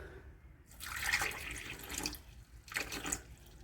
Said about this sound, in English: So yes, I'm actually pouring water in here